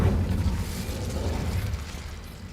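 Fire spell Incendio cast in Hogwarts Legacy, a low rumbling whoosh of flame that swells at once and slowly fades over a couple of seconds, heavy and close.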